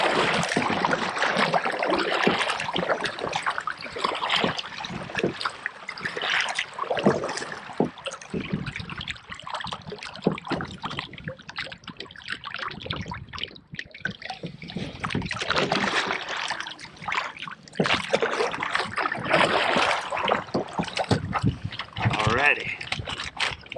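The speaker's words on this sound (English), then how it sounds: "We're gonna paddle down a good stretch down here, probably to the very end, and then we're just gonna drag." A small boat is paddled downstream on a fishing outing, with repeated splashing and water swishes from the strokes, plus rushing wind and occasional talk.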